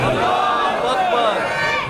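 A large crowd at a religious gathering roars back a collective chant in response to a slogan, a loud sustained mass of voices filling the whole moment.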